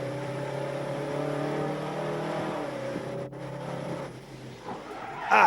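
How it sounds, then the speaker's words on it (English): An onboard recording from a racing truck driven by Richard Walker at speed. A loud, droning engine holds steady, then dips briefly, with road and wind noise underneath and a sharp burst of sound at the very end. "Now here's what it's like to ride on board a racing truck"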